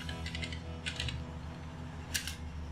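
Computer keys click in quick irregular bursts, a light rattling patter of separate taps with short pauses, heard close over a steady low hum.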